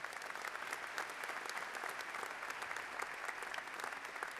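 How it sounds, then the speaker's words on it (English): Audience applause fills a commencement ceremony hall, a dense, steady roar of many hands clapping at once, loud and sustained throughout with no voices rising above it. "Will you give Tracy another round of applause, folks?"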